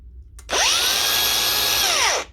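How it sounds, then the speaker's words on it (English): A noisy variable-speed Makita angle grinder spins up with a loud high whine, runs steadily for under two seconds, then winds down. "when your Makita angle grinder is noisy"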